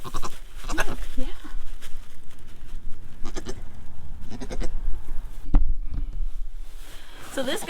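A Nigerian dwarf goat bleats repeatedly in loud, wavering cries, close by and recurring every second or so, while a person talks over it.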